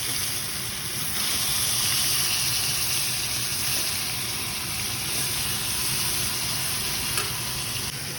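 Rinse water from a bowl goes into a pot of Bengali-style mutton kosha, setting off a steady, close, loud sizzle and bubbling that runs unbroken under faint stirring.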